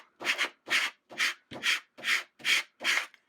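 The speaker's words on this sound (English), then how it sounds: "apply it on top of the vinyl, rub with your thumb" A thumb rubbing a transfer grid sheet down onto craft vinyl, seven even strokes in a steady rhythm with brief pauses between, close and fairly soft, with no talking.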